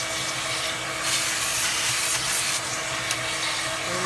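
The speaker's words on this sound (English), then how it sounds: "I'm going to go ahead and use the vacuum cleaner again." A vacuum cleaner running continuously while cleaning an iRobot, a loud, steady broadband rush with faint rubbing and scraping variations as the nozzle moves.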